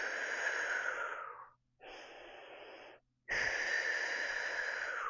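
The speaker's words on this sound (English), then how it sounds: "So we'll inhale through the nose." Deep breathing exercise: a long airy inhale through the nose, a short pause, a steadier breath, then another full breath, all close and clear with no talking.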